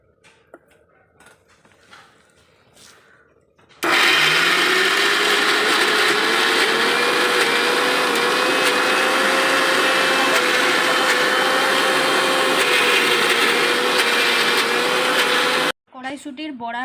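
A kitchen mixer grinder pastes shelled green peas with chopped onion and green chilli, starting abruptly into a loud, steady high-pitched whir that runs about twelve seconds before cutting off, with quiet sounds before and after.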